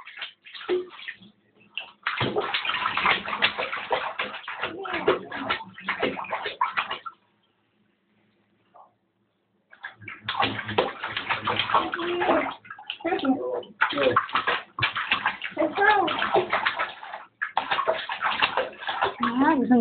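A baby splashes and sloshes in bath water in a tub, with irregular bursts of splashing broken by a quiet pause and adults talking over it.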